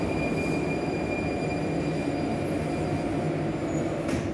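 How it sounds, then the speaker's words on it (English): Metro train passing close by, a loud sustained rumble of wheels and carriages with a thin high squeal riding over it, steady for the whole stretch. "I had to wait for that metro to go"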